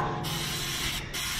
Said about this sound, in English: So using canola oil, we're going to spray everything in here.